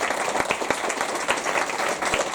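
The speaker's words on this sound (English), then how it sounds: "So I think a round of applause" A room full of people at a Milton Keynes City Council community event claps steadily, a dense, even wash of applause that holds its level throughout, with no voices standing out.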